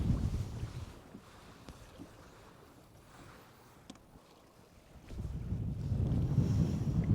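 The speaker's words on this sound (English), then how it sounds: "I'm no fan of the wind." Wind gusts buffet a fishing boat out on the water during a spring cold front, loud rushing bursts at the start and again near the end with a calmer lull between, no talking.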